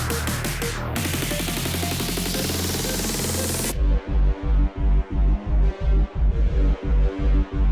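An electronic track builds through a loud, noisy riser, then cuts into a pounding, pulsing kick-driven beat.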